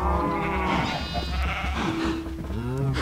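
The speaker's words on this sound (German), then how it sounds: "Und das Schaf kommt hier auch irgendwie raus." Sheep bleating in the Minecraft video game, several wavering bleats over a steady game backdrop with no talking.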